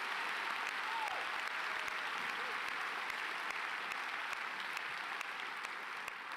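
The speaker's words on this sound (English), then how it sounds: "Audience, please give our students a round of applause as we honor the class of 2018." A crowd at a 2018 high school graduation ceremony applauds the graduating class, a steady wash of clapping heard at a distance, fairly faint and unbroken throughout.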